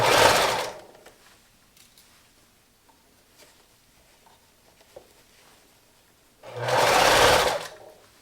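Sewing machine stitching ruffled fabric for a neckroll pillow: two loud, steady motor-driven bursts of rapid needle chatter, one at the start and one near the end, separated by quiet handling of the cloth.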